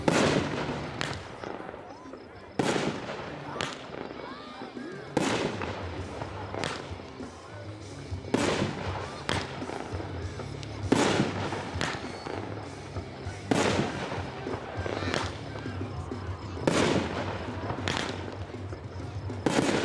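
A 9-shot Skyfall firework cake fires in sequence outdoors, each launch a sharp loud thump followed by crackling bursts at irregular intervals of a couple of seconds, with voices chatting faintly in between.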